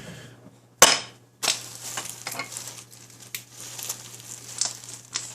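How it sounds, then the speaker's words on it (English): Mayonnaise is stirred into a BLT salad in a bowl, giving close wet scraping and a couple of sharp clicks of the utensil against the dish, with a low steady hum underneath. "Stop and stir."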